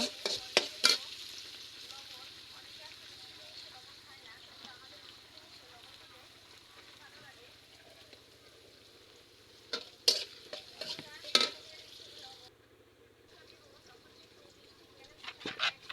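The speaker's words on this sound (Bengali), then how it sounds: "আমি কিন্তু এবার ডালটাকে ঘুটে নেব" Dal with potato and tomato is mashed and stirred in a wok of hot oil. A soft, steady sizzle runs underneath, broken by a few sharp scraping knocks of the spoon against the pan at scattered moments.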